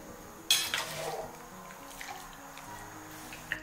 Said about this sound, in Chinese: 迅速的给它捞出来控水。